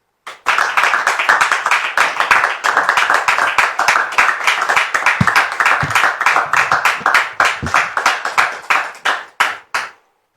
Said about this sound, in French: je voudrais qu'on reçoive encore sous vos applaudissements Dame Priska